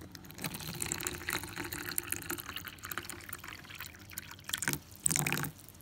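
Water pours into a tarantula's water dish in a steady, close trickle that runs the whole time, with a louder splashing burst near the end.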